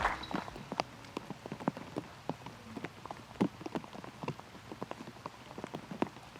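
Gentle rain patters on surfaces at a disc golf course during a women's pro tournament round, a steady scatter of soft, close drops with occasional louder taps and no talk.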